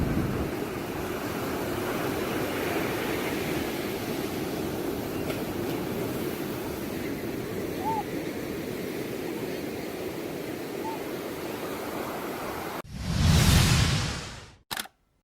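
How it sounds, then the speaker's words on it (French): Ocean surf rolls in a steady broad wash for most of the stretch, with wind blowing over it, then a short louder burst of noise near the end before it cuts off. "prendre l'air frais et profiter de quelques vagues"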